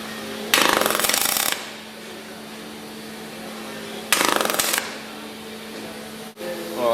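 A Telwin 225 MIG welder lays down two separate tack welds on a car quarter panel. Each is a harsh crackling buzz lasting about a second, close and loud, with a steady low hum between the bursts.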